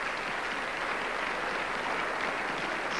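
Eurovision Song Contest 1984 hall audience in Luxembourg applauding after the winning song's reprise, a steady, even roar of massed clapping heard from a distance without speech.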